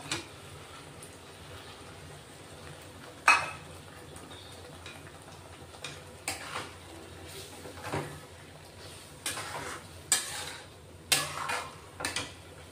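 Boiled chicken goes into a pot of gravy masala and is stirred, heard as scattered close spoon scrapes and clanks against the pot over a quiet background.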